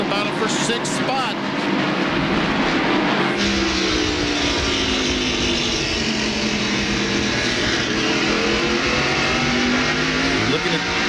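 NASCAR stock cars race side by side down the backstretch at Martinsville in the 1997 Goody's Headache Powder 500, a steady loud engine roar that swells, with a commentator talking over it.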